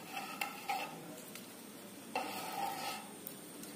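Chopped dried red chillies being stirred into a mixture for homemade potato papad, giving soft scraping and clinking spoon strokes against a pot at an uneven pace, fairly quiet with no voices.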